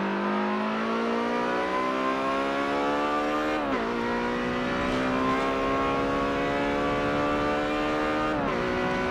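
Ferrari 355, a mid-engine rear-wheel-drive car fitted with race tires and lighter wheels, on a hot lap in Forza Motorsport 7, its engine revving hard and climbing through the gears, with two sharp upshift breaks and a steady loud drone.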